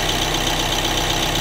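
A Renault Trafic 1.6 dCi van's diesel engine idles close by with a steady, even rumble and fine rhythmic knocking throughout.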